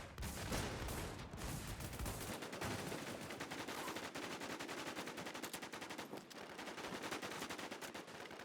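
Rapid automatic gunfire in a video game capture-the-flag match, dense continuous bursts filling the whole stretch at steady loudness with no speech.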